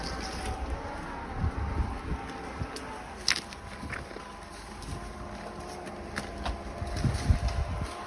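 A Sherp amphibious ATV drives out on a moose hunt; its low engine rumble comes and goes at a distance, mixed with gusty wind noise on the microphone and a few scattered clunks.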